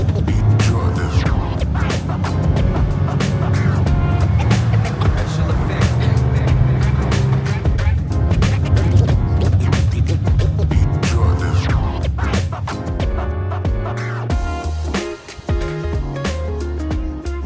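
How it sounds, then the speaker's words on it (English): A marshrutka minibus drives the mountain road from Mestia to Ushguli in Georgia, its engine and road rumble a loud, steady drone that runs the whole way, with voices mixed in. "the bus just leaves when it's full. The marshutka."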